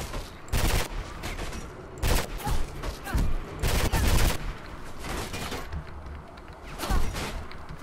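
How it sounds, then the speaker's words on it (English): Gunfire in the video game Mirror's Edge comes as bursts of rapid shots at a steady volume, with a player talking intermittently. "Who's shooting at me?"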